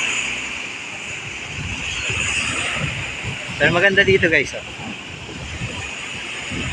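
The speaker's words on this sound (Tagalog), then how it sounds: "Taas ng alon, paano ka maliligo nito?" High ocean waves break at a shore with fishing boats nearby, a steady broadband wash and wind rush running throughout, with someone talking briefly over it near the middle.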